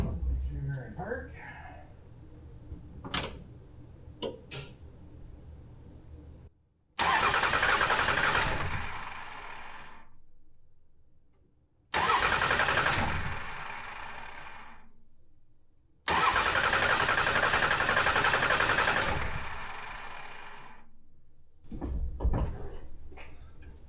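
A first-generation Cummins 12-valve diesel in a dually pickup, run with a booster pack, cranks in three long, loud, near bursts that end abruptly. A person talks in the quiet gaps between the bursts.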